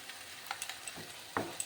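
A nut and raisin paste sautéing in a pan for a bottle gourd curry, with faint stirring scrapes and a couple of small sizzling ticks over a low, quiet background.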